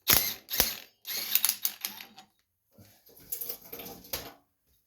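Impact wrench removing a 5/8 nut on a Craftsman YT 3000 riding mower, several short loud rattling bursts separated by brief pauses, close up, with no talking.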